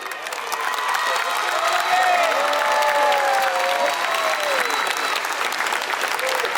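A large crowd at a school annual day function applauds steadily and loudly throughout, with faint cheers and shouts mixed into the continuous clapping.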